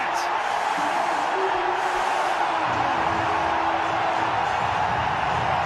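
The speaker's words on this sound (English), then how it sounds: "Listen to the crowd." A stadium crowd at a cricket match roars steadily after a wicket, a broad sustained wash of cheering that stays loud and even with no pauses, with a voice talking over it.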